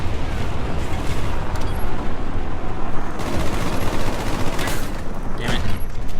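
AUG rifle gunfire in Call of Duty: Black Ops multiplayer, loud sustained automatic bursts mixed with other shots and explosions in a dense, continuous battle din.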